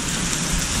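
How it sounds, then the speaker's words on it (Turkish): Heavy rain pours down steadily during a night camping trip with a tent, a constant dense hiss of downpour with no pauses, close and loud throughout. "Sağanak yağış."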